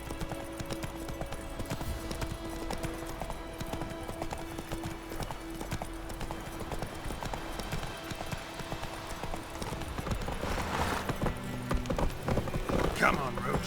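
Roach, a horse in the video game The Witcher 3, trots with rhythmic clip-clop hoofbeats that grow louder and busier toward the end, mixed with game ambience and a voice speaking.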